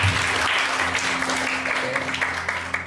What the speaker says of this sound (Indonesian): Tepuk tangan buat Tuhan kita ya.